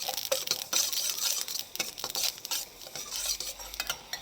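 Poppy seeds are dry-roasted lightly in a pan over low heat. A spatula scrapes and stirs in quick, uneven strokes over a soft sizzle, close and fairly quiet.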